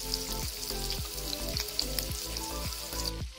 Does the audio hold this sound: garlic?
yes